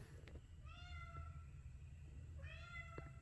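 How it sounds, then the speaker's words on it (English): A cat meows twice from behind a door, the cries clear but a little distant over a steady low rumbling background hum. "this damn cat is really at the door"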